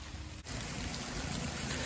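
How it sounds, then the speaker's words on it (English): Heavy rain pours down outdoors at a fishing spot as a dense, steady wash of hiss and splatter with no gaps, close and fairly loud, briefly dipping for a moment near the start. "It is downpouring"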